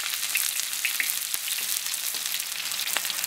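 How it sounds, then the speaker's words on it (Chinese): Onions frying in hot rapeseed oil in a wok, a dense, bright, continuous crackling sizzle heard up close and fairly loud throughout, with no voices. "洋葱下进去炸。"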